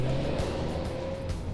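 A yellow Ferrari Testarossa drives by with a steady, close engine drone and a faint tyre rasp, loud and continuous with no talking.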